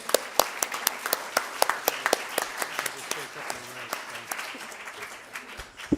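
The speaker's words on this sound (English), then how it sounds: "Let's clap for those people." An audience at a historical society talk claps together, a scattered burst of individual sharp hand claps with no talking over it.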